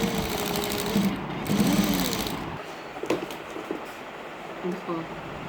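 A sewing machine stitches on paper, a close, rapid mechanical whir that runs steadily for a couple of seconds and then stops. A person talks over it and continues afterward.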